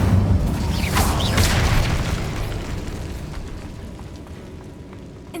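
A fiery Incendio spell cast in the video game Hogwarts Legacy bursts with a loud, rumbling blast and crackle at the start, then fades into a decaying roar over several seconds, with no voices.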